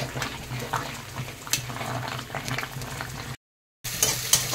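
Mutton kosha cooking in a pan, heard as a moderate bubbling sizzle with occasional soft stirring knocks that cuts out briefly to silence near the end before resuming.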